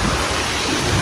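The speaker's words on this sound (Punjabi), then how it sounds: "ਬਾਰਿਸ਼ ਹੋਣ ਲੱਗ ਪਈ ਆ ਇੱਥੇ" Heavy outdoor rain and thunder fill a short stretch with a dense, loud, continuous wash of noise and a low rumble, with no voices.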